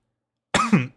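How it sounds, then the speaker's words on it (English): A dry cough sounds close up after a moment of silence, a short double burst of harsh, rasping bark, followed by the start of another. "I've had a dry cough, so I apologize for occasionally coughing in your ears"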